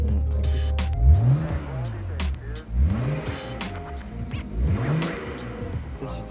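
BMW 335i Touring straight-six engine and exhaust revving in repeated rising sweeps, three strong pulls with roaring exhaust between, loud and close, with some background noise.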